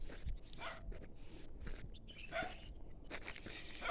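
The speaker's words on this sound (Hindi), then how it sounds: "इनको गाय दिखी और लग गए भौंकने।" On a farm, dogs bark at a cow in a faint, distant, irregular scattering of barks and yelps, with soft footsteps and outdoor rustle in between.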